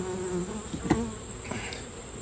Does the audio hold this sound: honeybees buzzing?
yes